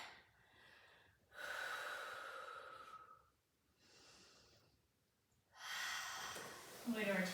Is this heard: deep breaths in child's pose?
yes